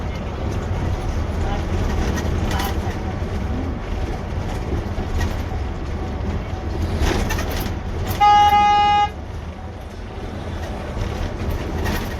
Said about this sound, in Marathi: बघू शकता भिवंडी ठाण्याची ट्रॅफिक.